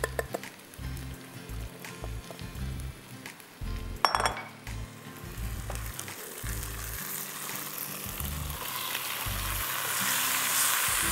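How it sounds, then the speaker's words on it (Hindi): Ginger garlic paste, masala and raw meat frying in a pot, a loud close sizzle with clinks of utensil against pan and stirring, rising into a steady hiss toward the end, no talk. "उसको अच्छी तरह फ्राई करेंगे, और फिर हम इसमें गोश्त डालेंगे और ये मसाला डालेंगे"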